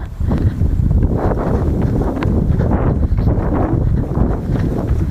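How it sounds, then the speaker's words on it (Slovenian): Gusty wind buffeting a Thieye T5 action camera microphone outdoors during a run, loud rumbling bursts filling the whole stretch with no voices. "Zdaj je kar vetrovno, ne vemo, kako se bo to čulo."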